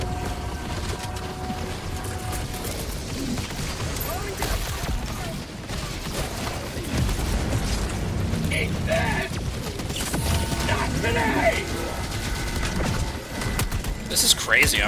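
Mortar fire in the distance in the co-op shooter Helldivers: a dense, continuous mix of booms and bursts with mechanical clatter, mostly distant and rumbling, while people talk over it.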